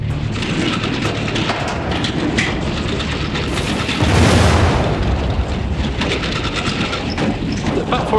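A deep colliery explosion boom swells out of a dense, rumbling roar, peaking loudly midway before settling back into a steady, noisy rumble.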